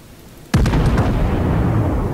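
A single heavy, close explosion from bombing in World of Warships bursts in after half a second of quiet, followed by a loud, sustained roar and rumble.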